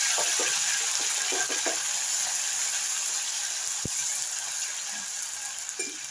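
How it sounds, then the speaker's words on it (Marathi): Ground masala paste of onion, garlic, coriander, ginger and coconut sizzling in hot oil, a steady bright hiss with occasional soft clinks and pops of stirring. "आपण तेल ठेवलं, त्याच्यामध्ये आपलं हे वाटण टाकलं."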